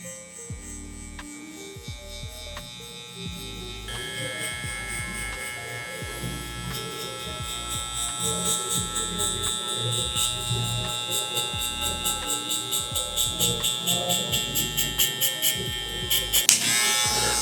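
Electric hair clippers buzz steadily at close range while cutting spiky Mexican hair in a barbershop, with the guard lever open; the pitch shifts as they work, and soft talk and brief rustles come in underneath.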